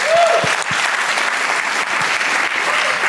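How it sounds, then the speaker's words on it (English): A lecture audience gives a round of applause, loud and close, with a few whoops and shouts rising above the clapping throughout. "Give him a round of applause"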